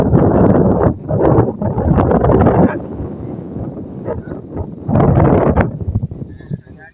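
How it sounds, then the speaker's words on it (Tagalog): Strong wind buffets the microphone in heavy low rumbling gusts during an outdoor hunting trip, with people talking underneath and brief calmer stretches between the loud bursts. "mahangin yung spot namin"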